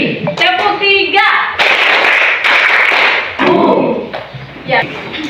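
A class of students doing a patterned rhythmic clap cheer, sharp loud clap bursts in quick sets of three, close by, with voices between the claps.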